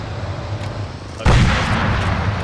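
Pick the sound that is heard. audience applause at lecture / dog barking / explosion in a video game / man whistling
explosion in a video game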